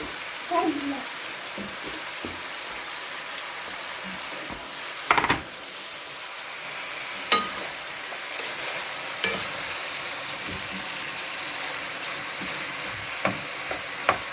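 Chicken fries in a pan at home, a steady close sizzle and crackle running throughout, broken by a few sharp clinks of utensils, with a voice talking over it.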